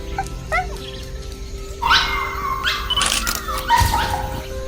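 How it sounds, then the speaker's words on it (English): Several dogs in an animated short whimper, yip and bark playfully in quick, overlapping bursts that grow busier and louder toward the end. "the land is full of life, dogs running freely, playing,"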